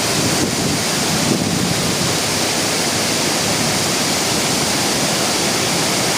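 Steady, dense rushing water roars without a break, a continuous full-bodied wash of Phon Phop waterfall on Phu Kradueng pouring close by, with no voices.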